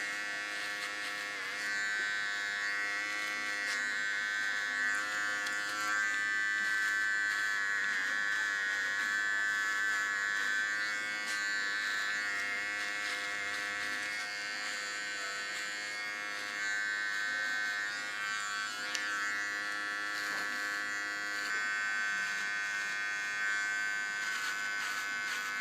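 An electric hair clipper used during a haircut buzzes in a steady, continuous motor whine, fairly close and even throughout, with no talking over it.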